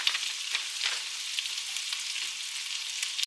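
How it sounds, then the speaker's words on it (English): Precooked grilled chicken breast strips fry in hot oil in a pan, a bright, crackling sizzle heard up close with small bursts and pops throughout, ending with a sharp knock. "My oil should be getting hot. I'm using a half a package of this. You just want to dump it in your pan."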